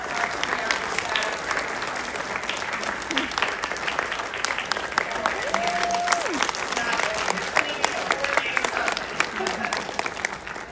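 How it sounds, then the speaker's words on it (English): A crowd claps in sustained applause for a community outreach team at a Gwinnett County event, dense, steady clapping filling the hall for over ten seconds without a break. "So will you please join me in also giving a round of applause to our community outreach team?"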